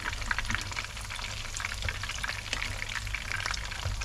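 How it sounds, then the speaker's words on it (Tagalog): Lumpia shanghai deep frying in hot oil, a steady close crackling sizzle with bursts of popping throughout, no voices. "Kailangan naka-deep fry talaga para lutong-luto siya."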